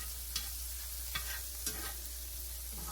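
Alligator fillets stirred in a frying pan, a soft continuous sizzle broken by three or four scraping utensil strokes, close but quiet over a low steady hum.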